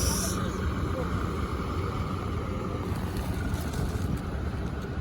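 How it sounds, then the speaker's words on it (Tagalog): Boat on a river in Paris, a steady broadband wash of engine and water noise with wind buffeting the microphone and a faint voice mixed in. "Boat in Paris."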